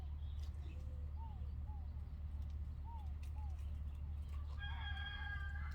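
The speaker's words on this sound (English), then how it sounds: "There's my rooster." A rooster crows in a country setting, a distant harmonic call near the end that follows several small bird chirps, all faint under a constant rumble of background noise.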